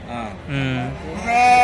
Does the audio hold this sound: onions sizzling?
no